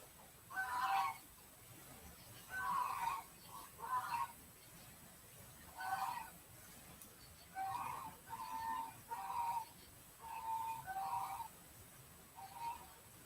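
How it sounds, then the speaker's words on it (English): A noisy flock of geese approaches outdoors, honking in repeated irregular bursts separated by short pauses, at a moderate distance with no voices. "I'm sure everyone can hear the geese coming now. They are so noisy."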